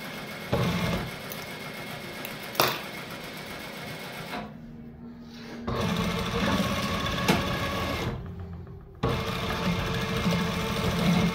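A sewing machine stitches elastic into fabric in rapid, steady mechanical bursts, pausing briefly twice between runs, close and clear with no talking.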